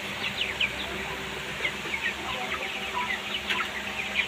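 Broiler chickens cluck in a rice-husk-bedded poultry shed, many soft overlapping clucks and chirps forming a steady flock murmur with no talk.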